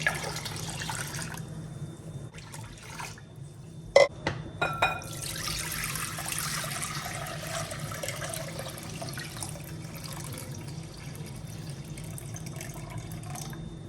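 Rice being rinsed in water gives faint sloshing and swishing with a few sharp clinks and drips, set against steady running water close by in a kitchen.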